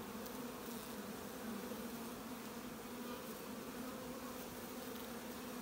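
Honey bees buzz around a nuc hive, a steady dense hum from many insects close by, with no talking.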